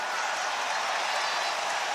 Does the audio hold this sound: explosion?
no